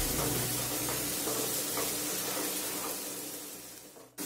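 Onions fry in a pan while being stirred, giving a dense, close hissing sizzle with soft scraping strokes, easing off slightly before a sharp knock at the end.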